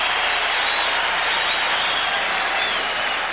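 A dense, roaring arena crowd ovation at a 1982 NBA playoff finals game between the 76ers and Lakers, sustained and uniform for a few seconds with no clear breaks.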